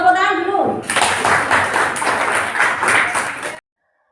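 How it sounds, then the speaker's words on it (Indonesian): A class of students claps for a group's presentation, a burst of fairly close, busy hand clapping that starts after a short spoken lead-in and stops abruptly. "Tepuk tangan dulu."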